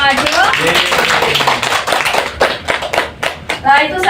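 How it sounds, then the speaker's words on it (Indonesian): A classroom group claps for students who presented during a microteaching statistics lesson, irregular close hand claps with some children's voices mixed in. "Beri tepuk tangan untuk yang sudah maju."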